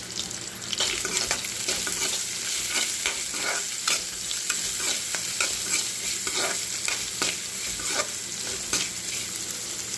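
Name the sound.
onion, cumin and dried chili frying in oil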